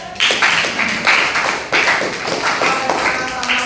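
A high school class in Pontianak applauds after a group presentation, a dense patter of many hands clapping in rolling bursts that rise and dip, fairly close and loud, with no voices over it.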